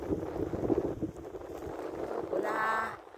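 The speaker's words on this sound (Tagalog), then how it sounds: "Una, naririnig yun yung hangin." Steady, rumbling wind buffeting a microphone outdoors on a cold afternoon fishing trip, loud and broadband throughout, with a brief tonal whine near the end.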